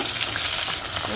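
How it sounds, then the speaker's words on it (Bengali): Small fish frying in oil in a pan, a close, bright, steady sizzle with no pauses and no talking. "মাছ ভাজা,"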